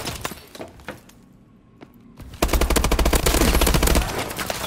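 Rapid machine-gun bursts and shattering impacts erupt in a video game, quieter scattered shots first, then a loud, dense, sustained volley from midway on.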